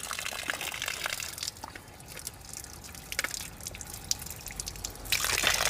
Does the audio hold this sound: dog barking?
no